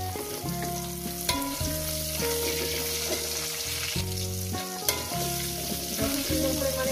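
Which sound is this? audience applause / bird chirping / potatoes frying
potatoes frying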